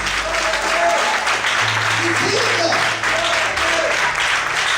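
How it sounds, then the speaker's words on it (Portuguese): A church congregation claps loudly and steadily for a long stretch, while a voice speaks briefly over the applause. "Você pode aplaudir o Senhor por isso?"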